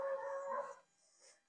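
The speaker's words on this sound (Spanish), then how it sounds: "Ya se juntó un montón de perros." A gathered pack of dogs gives a brief drawn-out howl that fades into quiet, faint and somewhat distant with no talking over it.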